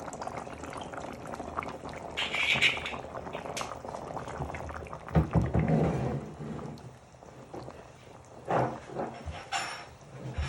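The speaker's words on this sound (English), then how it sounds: "So you just want to put a little bit of cider vinegar in." A simmering pan of chicken vindaloo bubbles loudly, and cider vinegar poured in brings a splashing, sizzling surge, with uneven bursts of boiling and stirring noise close by.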